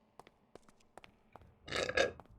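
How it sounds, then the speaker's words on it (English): A single loud, throaty burp lasting about half a second, rising after a stretch of faint scattered clicks during an RLCraft gaming session. "Burp."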